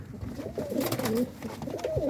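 Pigeons in a coop coo in overlapping throaty, rolling calls, close and fairly loud, with soft rustling and coop noise behind them.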